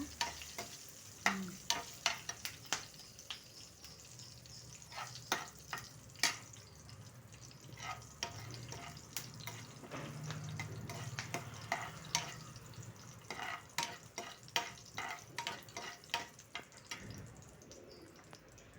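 An asafoetida tempering for palak onion curry fries in a pan under repeated stirring, and the soft low sizzle is broken by many sharp utensil scrapes and taps, close and fairly quiet, with no voices.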